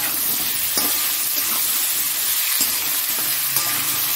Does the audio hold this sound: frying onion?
yes